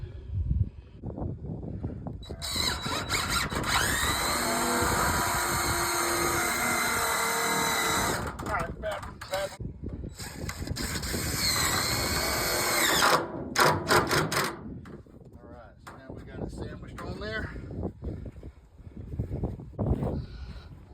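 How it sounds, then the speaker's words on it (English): A power drill drives screws through plywood lid pieces for a brooder box, several long, loud whirring runs that rise and stop, with brief gaps and lower knocks between them, close up. "we're going to screw through and sandwich it together"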